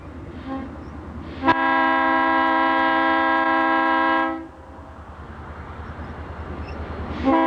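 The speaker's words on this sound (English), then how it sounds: "Santa Fe switcher GP20, number 3074, was returning home to Denver." A Santa Fe GP20 switcher locomotive, number 3074, sounds one loud, steady horn blast of about three seconds on Colorado's Front Range, with rail noise rumbling before and after.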